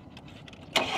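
A minivan engine is cranked during a battery test, with a brief low churning that bursts into a louder roar as it catches near the end.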